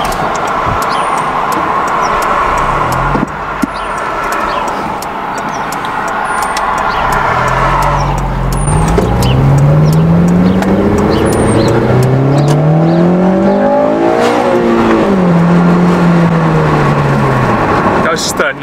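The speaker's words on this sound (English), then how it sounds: "Nice little quick first gear pull." An 8th-generation Honda Civic Si engine revs up hard in a first-gear VTEC pull, pitch rising sharply before dropping at the shift, loud and close, with a bit of voice early on.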